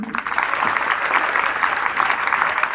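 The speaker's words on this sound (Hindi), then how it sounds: "एक बार उसके लिए जोरदार करतल ध्वनि से अपना ही स्वागत करें।" An audience at an Arya Veer Dal closing ceremony in Pimpri, Pune claps loudly and steadily, a dense, even wash of applause filling the whole stretch.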